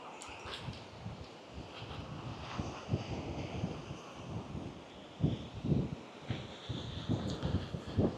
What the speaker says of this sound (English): It's a little windy. I hope the sound is okay.